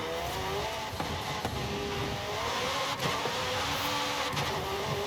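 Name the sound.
supercar engine revving with instant gear changes in Forza video game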